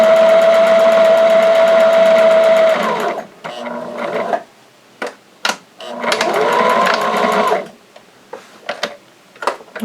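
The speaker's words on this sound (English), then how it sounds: "So we're just going to sew up to 3 inches, about 1/4 of an inch or 1/8 of an inch down, whichever is best for you. Always backstitch." A sewing machine stitches a fabric face mask in loud, steady whirring runs, broken by short stops, a few clicks and brief backstitch bursts, close up with no talking.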